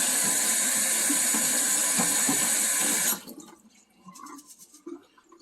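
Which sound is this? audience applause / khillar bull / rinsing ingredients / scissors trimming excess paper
rinsing ingredients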